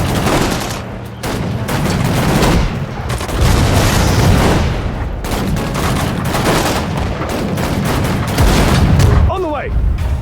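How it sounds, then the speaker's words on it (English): Artillery fire and explosions in the WWII strategy game Sudden Strike 4 at the Battle of Ypres: dense, loud booms and bursts of gunfire come in rapid succession, with short shouted voice lines between them. "Artillery! On the way!"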